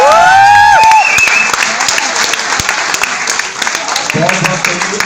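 An audience applauds at a poetry recitation, a dense, steady clatter of many hands that carries on for several seconds while a voice speaks over it at the start.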